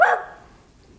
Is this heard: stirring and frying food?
no